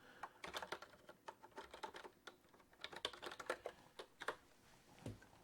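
Quiet, steady typing on a computer keyboard, with rapid irregular key clicks and small bursts throughout, close and alone without talk.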